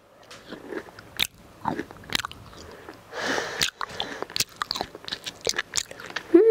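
Crunchy nurungji (scorched rice) is bitten and chewed close up, with sharp crackling bites and gritty crunches in an uneven rhythm, plus a short breathy sound midway.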